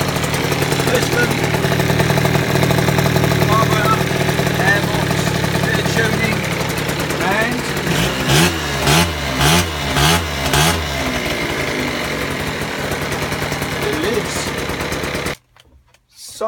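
Decatted 600 motorcycle engine fitted with a baffle runs at a steady, loud idle, then revs in a series of sharp rhythmic blips before cutting off near the end.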